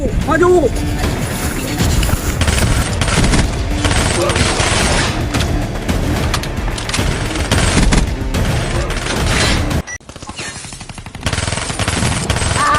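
Loud, continuous gunfire, with dense volleys and machine-gun bursts, fills a Sundanese comedy battle scene, with shouting voices mixed in and a brief drop in the barrage near the end.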